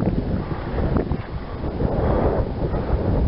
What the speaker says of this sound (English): The winds were almost nothing, and now they're up to 25-30 mile an hour gusts